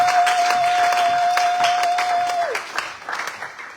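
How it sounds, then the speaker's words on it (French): A church congregation applauds at a sermon, a dense wash of clapping that fades in its last second, with a steady high whistling tone running under it before sliding away. "Applaudissez très fort."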